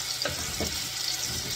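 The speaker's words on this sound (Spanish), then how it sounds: "aquí voy a echar ya todas las verduritas. Que se vayan cocinando todas." Chopped vegetables sautéing in a pan with oil and salt, giving a dense continuous sizzle with a few soft stirring swishes, close and fairly loud, no voices.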